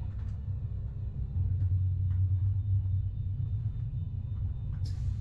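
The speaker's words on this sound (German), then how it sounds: "Also das komische Grollen, das ist mega schräg." A strange, steady low rumble fills the cab in the Train Sim World 4 train simulator game, droning continuously throughout with a faint hum layered above it and no voices.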